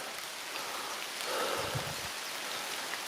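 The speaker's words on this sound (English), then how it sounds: "it'll stop raining at 1 o'clock, which is in about 4 hours" Steady rain falls on a misty summer day in Wales, making an even hiss that holds at one level throughout, with nothing else heard over it.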